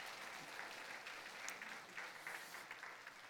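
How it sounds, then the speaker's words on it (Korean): A church congregation claps in blessing for its elders, a soft, steady patter of many hands heard from a distance with no voices over it. "우리 사랑하는 어르신들에게 여러분 축복의 박수 한번 해주셨으면 좋겠어요"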